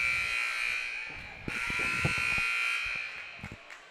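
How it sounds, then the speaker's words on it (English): A basketball game buzzer sounds during a Tigers vs Vikings championship game: one long, steady, loud electronic buzz lasting several seconds over crowd murmur and scattered thumps in the gym. "The buzzer's going out."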